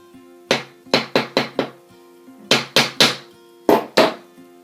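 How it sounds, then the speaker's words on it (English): Sharp metallic taps from hammering wire for a wire-wrapped scroll and bead bracelet, struck in quick irregular bursts of three to four blows separated by short pauses, close and clear with no talking. "when I'm hammering it, I am actually hardening it at the same time"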